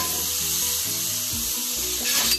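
Onions sizzle in a pan for spaghetti pie and are worked with a spatula, making a steady, loud, close frying hiss over low background music, with a brief scraping swell near the end.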